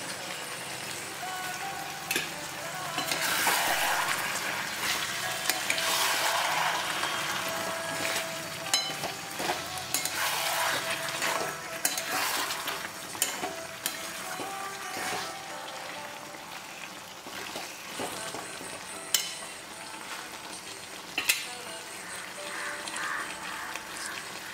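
A paste of ground coriander leaves, cashews and green chillies sizzles and fries with chicken pieces in a pan. Steady spitting crackle runs throughout, with scattered scraping knocks as it is stirred.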